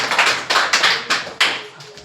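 A classroom bursts into hearty clapping for a young schoolgirl who answered correctly, several close bursts of many hands slapping together in uneven waves over about two seconds.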